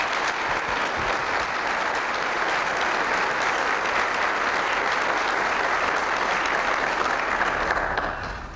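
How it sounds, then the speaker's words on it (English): Breakfast tribute audience gives a final round of applause for scholarship recipients, a full room clapping steadily and densely for several seconds, close and sustained, tapering slightly at the end. "Let's have one last round of applause for our scholarship recipients."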